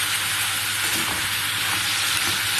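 A dense, steady sizzle fills the space as ginger and green chilli paste fries in a pan with bottle gourd stems, with faint stirring movements underneath.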